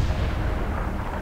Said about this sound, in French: les missiles de croisière plus l'artillerie normale arrivent à percer les boucliers